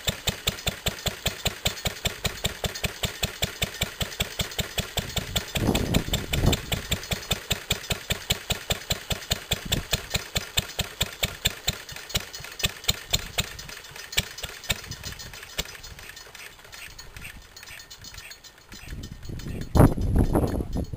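An old Bamford stationary engine at an electric lighting display idles with the fuel turned off, giving a slow, regular thumping beat that continues steadily, with a couple of louder bursts near the end, close by.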